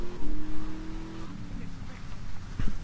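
A car engine hums and revs steadily in GTA Vice City, with a few tire and impact noises near the end.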